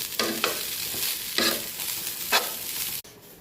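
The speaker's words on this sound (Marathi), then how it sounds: "आणि हे साईडला भात सुद्धा गरम करते तव्यावरती. तेलामध्ये टाकलाय भात" Leftover rice tossed in oil on a hot griddle, a steady sizzle broken by several scraping stirs of a spatula, close by and with no talking.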